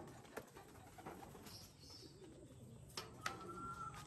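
Pigeons arriving at a loft, soft low cooing and a few brief wing or bird calls, faint and somewhat distant over steady background hiss, no talking.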